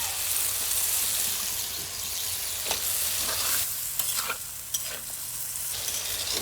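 Eggplant and potato sizzle and fry in a pan with yogurt and chili powder while being stirred, a steady close crackle with occasional scraping strokes and no talk.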